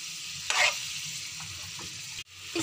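Chicken and yogurt stirred and fried in a pan, a soft steady sizzle broken by a few brief scraping stirs, one short louder burst near the start and a sharp clatter near the end.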